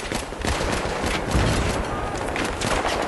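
Dense, continuous gunfire in Battlefield 3, a loud, close barrage of overlapping shots and blasts with no break across the short stretch.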